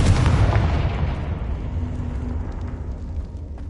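A Confringo spell explodes in Hogwarts Legacy, a heavy booming blast that starts loud and then rumbles and fades away over several seconds.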